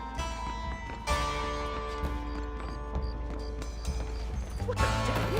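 Horse hooves clip-clop steadily through an alleyway in Red Dead Redemption, with occasional snorts, set against a bed of in-game music and ambience.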